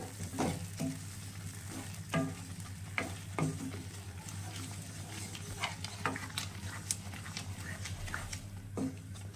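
Egg curry masala with dal being sautéed in a pan and stirred with a spatula: a steady sizzle under rhythmic scraping strokes, close by over a low constant hum, with no talk.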